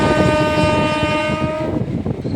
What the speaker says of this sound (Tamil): நம்ம வண்டிக்கான ஃபர்ஸ்ட் ஹால்ட்டான குற்றாலமாக தான் நம்ம வந்து ரீச் ஆயிருக்கோங்க